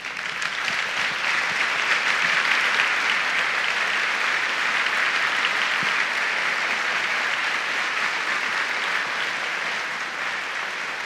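A live audience at a TEDx talk applauds with sustained, dense clapping that holds steady and loud for about eleven seconds, easing slightly toward the end, with no voices over it.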